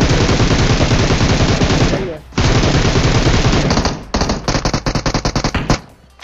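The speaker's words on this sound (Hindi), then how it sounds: "कुछ गोलियाँ चलने की आवाज़ आती है" Rapid bursts of automatic gunfire in a video game, loud and close, pausing briefly, then breaking into sharper, separate shots near the end.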